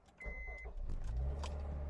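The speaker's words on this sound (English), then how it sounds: "Alright, so we're firing up the RSX." An Acura RSX Type S with a new starter cranks briefly and fires, then settles into a steady, close idle that is loud and alone.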